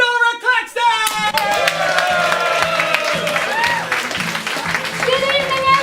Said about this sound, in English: So please give a warm fob cheer to Laura Claxton!